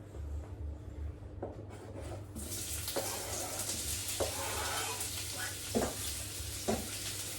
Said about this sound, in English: I'm going to throw these onions in straight away and just start sauteing.